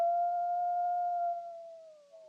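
A lone wolf, tied to Minnesota's wild wolves, lets out one long, steady howl that holds an even pitch, then sags and fades slightly toward the end, clear and alone without talk.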